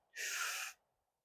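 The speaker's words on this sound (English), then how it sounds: "we're going to breathe together in staged breathing in through the mouth" A single sharp, loud breath drawn in through the mouth during a guided twisting stretch, a breathy rush lasting about half a second, then quiet.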